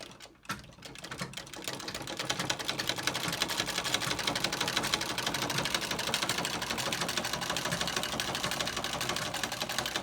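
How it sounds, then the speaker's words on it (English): A Wilson treadle sewing machine stitches steadily, a rapid even clatter of needle and mechanism that builds up after a slow start and runs continuously up close, with no talking. "I've been doing a bit of sewing on this machine"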